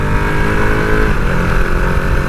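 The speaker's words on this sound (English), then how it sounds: "this one, if I slow down a bit and listen, has a downshift or auto blipper as well" A Ducati Panigale V2 engine revs hard and continuously as it downshifts with an auto blipper, a loud, close, mid-pitched roar with quick throttle blips rising and falling throughout.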